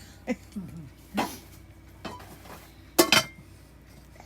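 Nonstick pans and lids are handled in a kitchen cupboard, giving a few scattered clanks and clinks with quiet pauses between them.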